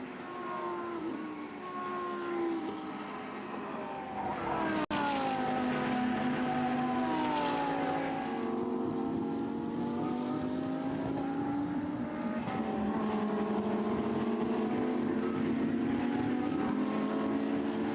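Lamborghini Super Trofeo race cars at the Vallelunga circuit scream past in a loud, continuous engine roar with rising and falling pitch as they accelerate, lift off and pass close by, with no talk.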